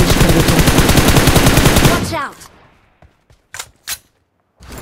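In the mobile battle royale BGMI, a player knocks down and finishes an enemy with a long, loud burst of rapid automatic gunfire. A lull follows, then a few scattered single shots.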